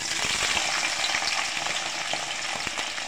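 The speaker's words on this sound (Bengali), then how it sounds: "কড়াইতে তেল গরম হইতে দিছি। এখন দিয়ে দেবো পেঁয়াজের কলি" Green onion stalks and green chilies frying in hot oil in a wok, a dense continuous sizzle with scattered crackles and spatters, close and loud, without talk.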